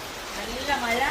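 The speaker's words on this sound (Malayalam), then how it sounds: "ഭയങ്കര മഴയാണ് കേട്ടോ" Steady broadband hiss of rain pouring down, continuous and fairly loud, with a voice speaking over it.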